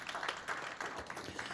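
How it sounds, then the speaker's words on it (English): Audience at a graduation ceremony giving a short burst of applause, scattered clapping heard briefly and fairly faint. "A little round of applause for that."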